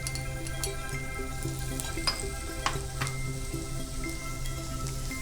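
A teaspoon of cumin seeds and chopped ginger sizzle in hot oil in a kadai, a steady, close crackling fry with scattered sharper pops and spits throughout.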